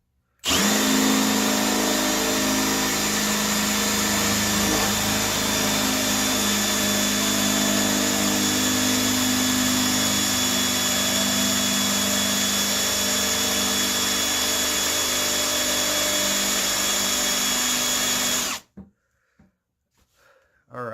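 A Ryobi drill pressed hard against wood, its bit scorching into the surface, whines in one loud, steady, unbroken run for about eighteen seconds before cutting off abruptly.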